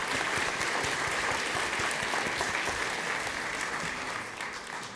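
Applause from a large audience at a commerce summit session, dense and steady with no gaps, fading slightly toward the end.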